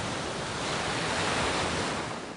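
Ocean surf rolls and crashes onto a sandy beach in a steady, broad wash of noise that swells toward the middle and stays close and loud throughout, with no voices.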